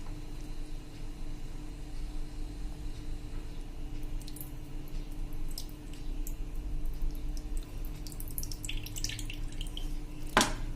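Buttermilk water drains out of churned butter being made into ghee, a thin steady trickle with faint drips, ending in a sharp splash or clatter.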